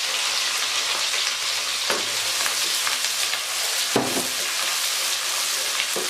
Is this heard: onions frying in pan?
yes